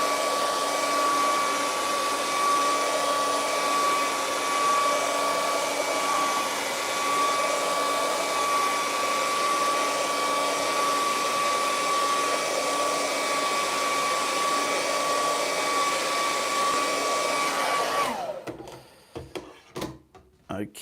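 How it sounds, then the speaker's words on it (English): A hair dryer runs in a steady, close, loud whine, drying fresh paint along the edge of a rocky cliff and water painting, then switches off near the end, leaving a few soft handling knocks. "Now I'm going to just dry the line there"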